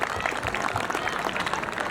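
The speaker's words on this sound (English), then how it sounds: "can I ask you to give a big round of applause for both Pawan and Pranita" Audience applause at a school event, a broad steady patter of many hands clapping at moderate loudness and holding evenly throughout.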